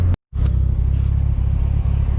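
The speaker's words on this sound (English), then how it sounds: "the spool that you'll hear in that is gonna be ridiculous" Engine bay of a Mitsubishi Lancer Evolution VIII with turbo, a steady close, loud low rumble of the running engine after a brief silent gap, with a faint rising whine on top.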